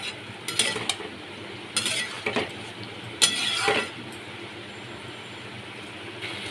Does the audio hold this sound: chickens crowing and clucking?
no